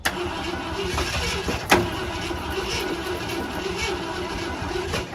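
An old Ford F-100 pickup, long left sitting, running rough after being coaxed back to life. The engine churns unevenly and loudly at close range, with a clunk partway through.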